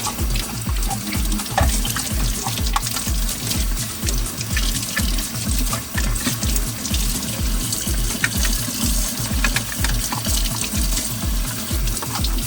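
Game Boy shell parts being rinsed under a running tap: a steady, moderately loud rush of water with small splashes throughout, no voices.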